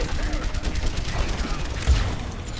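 Rapid enemy gunfire in the shooter game Overwatch, a dense continuous fusillade of shots, fairly loud and steady throughout, with game effects and a voice mixed in underneath.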